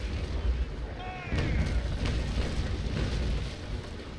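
Naval Action sailing-ship battle with a cannon shot booming out, a deep low rumble and a short whistling streak followed by sustained heavy blast noise and crackle, loud and close.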